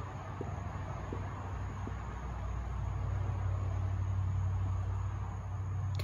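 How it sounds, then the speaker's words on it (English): Traffic rumbles through the empty window frames of a house with its windows knocked out: a low, continuous, distant drone with a few faint ticks and no talking. "With all the windows knocked out, you can really hear the traffic."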